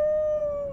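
A dog's howl from the video game Card Hunter: a single sustained, steady tonal cry lasting under a second, clear and close, with no talking over it.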